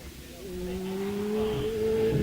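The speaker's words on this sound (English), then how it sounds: "away off the line now goes Tommy Hodges with the Team GV KTM" Team GV KTM 613cc race machine launching off the start line at a hillclimb, its engine rising in a steady climbing drone as it pulls away, growing louder through the clip.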